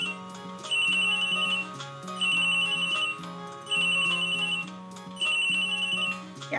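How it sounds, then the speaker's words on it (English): A telephone rings in the Ace Attorney video game, with four evenly spaced electronic trills over a steady looping game-music backing and no voices. "Yeah, I'm hearing the phone"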